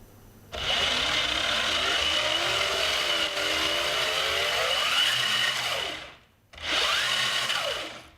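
Motors on the Mantis rover, a mecanum wheel robot platform, whine steadily as it drives forward, turns and moves sideways, with pitch rising and falling, a brief pause, then another run.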